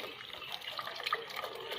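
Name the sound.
water being poured into a cooking pot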